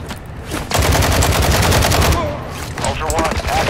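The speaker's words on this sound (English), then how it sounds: "Let's shoot the windows before going in." Sustained automatic gunfire in a Call of Duty game rattles in rapid, loud, close bursts as windows are shot out, with a brief pause before firing resumes.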